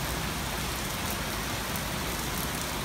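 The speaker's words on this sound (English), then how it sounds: "It's raining so hard." Heavy, cold rain pours down steadily, a loud, dense hiss that fills the whole stretch without a break and with no voices over it.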